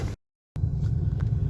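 Straight-piped Mercedes E500 cruising, a steady low exhaust rumble with wind, cut by a short dropout of near silence early on before the drone returns.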